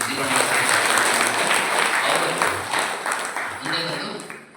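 Audience applause at a religious discourse event: dense, sustained clapping from a crowd, loud and continuous for the whole stretch before gradually thinning at the end.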